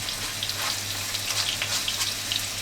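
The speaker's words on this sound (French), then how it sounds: "Et on va faire revenir l'ail et l'oignon pour commencer." Garlic and onion frying in a spoonful of neutral cooking oil, a steady close crackling sizzle with fine popping throughout.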